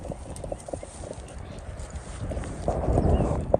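Chance, a Rocky Mountain horse, moves in a gait with steady, rhythmic hoofbeats on the ground. The footfalls grow louder and closer toward the end, over faint outdoor background noise.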